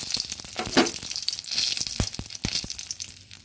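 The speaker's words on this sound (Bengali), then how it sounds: "এবার দিয়ে দিচ্ছি তেজপাতা আর শুকনো লঙ্কা ফোড়ন।" Bay leaf and dried red chili dropped into hot mustard oil in a kadai, crackling and sizzling steadily with a few sharp pops and spatters.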